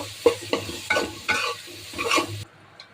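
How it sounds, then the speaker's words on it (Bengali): Onions and garam masala fry in hot oil for a biryani, a close sizzle broken by about five rhythmic stirring scrapes before the sound cuts off abruptly. "পেঁয়াজটা কিছুক্ষণ ভেজে নিব।"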